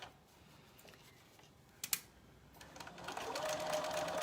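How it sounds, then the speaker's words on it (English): A sewing machine stitching pocket bags into a summer skirt with an elasticated waistband, faint at first with a few clicks, then a steady rising whirring run of stitching toward the end. "Any other questions while we start to sew these pocket bags in?"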